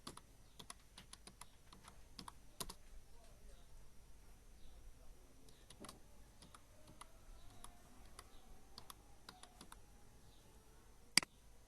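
Someone typing a company name on a computer keyboard, giving sparse, quiet, irregular key clicks in small clusters with pauses between them, ending in one sharper louder click, against a faint background and no clear talking.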